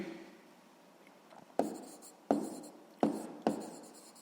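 A math answer is written by hand in a quiet room, pen or pencil giving four distinct sharp taps and strokes spaced about a second apart, close and clear, with no talk.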